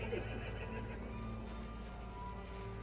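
Horse in a Wild West video game gives a quiet whinny near the start, followed by faint hoof clops and low steady background game sound, with no talk.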